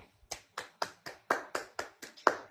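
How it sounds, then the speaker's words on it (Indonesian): Rhythmic hand clapping, about nine sharp claps at a steady pace, close and fairly quiet with no voices over it, given as applause for Salvita. "Aplaus buat Salvita deh"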